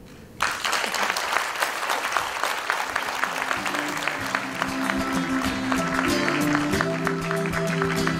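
Audience applause at a Toastmasters event after a keynote by an international director, starting suddenly and holding steady and full for nearly eight seconds, with a tonal hum and faint background voices mixed in.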